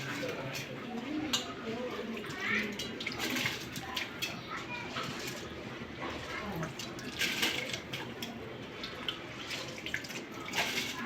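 Water poured into a pot of biryani rice, a continuous splashing, gurgling stream with uneven bursts, close and fairly quiet, with a person talking over it.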